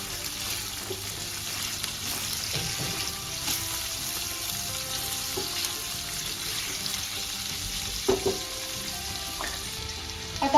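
Capsicum and onion fry in oil for paneer chilli with a steady, moderate sizzle, broken now and then by a few soft stirring knocks near the end. No one speaks.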